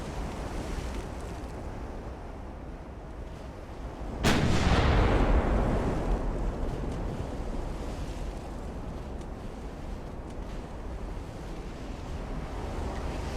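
A single heavy warship gun blast booms from the naval battle game Ultimate Admiral: Dreadnoughts, its rumble decaying slowly over a constant wind-and-sea ambience.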